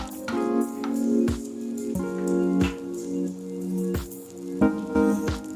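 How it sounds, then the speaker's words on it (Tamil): Cashew nuts dropped into hot ghee for sago payasam, a close bubbling sizzle with repeated sharp clatters as pieces hit and are stirred in the pan, no voices. "இப்போ நம்ம இதில் எடுத்து வச்சுருக்க அண்டிப்பருப்பை போட்டுடலாம்."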